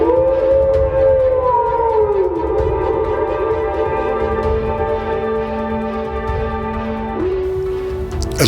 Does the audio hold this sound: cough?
no